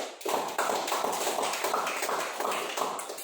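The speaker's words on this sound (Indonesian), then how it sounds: "Sekarang kita kasih aplaus buat kelompok 2." A grade 7 classroom of students applauds a student group, with dense, fairly loud clapping that continues steadily throughout and rises in a few uneven swells.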